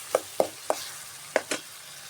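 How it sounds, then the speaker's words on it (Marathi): Spice paste frying in oil for a fish curry, with a faint sizzle under five sharp, irregular scraping strokes of a spoon stirring in the pan, close by and without talk. "हे चांगलं आपल्याला तेल सुटेपर्यंत आता तळून घ्यायचं आहे वाटण."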